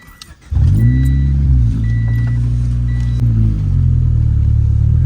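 A car just back from repair, fitted with eBay parts, starts off on a test drive: after a brief rustle the engine comes in loud and close, revving and shifting in pitch as it pulls away and steadies.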